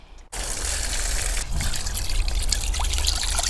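Water used to wash fish is poured steadily onto bean plants outdoors, a continuous splashing trickle that starts abruptly and runs loud and unbroken, with no talking.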